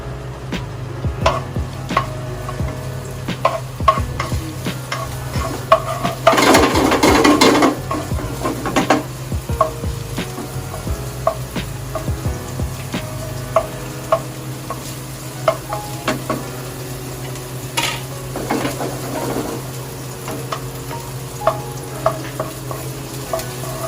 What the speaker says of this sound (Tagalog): konting oil lang yung nilagay ko kasi niluluto ko is pork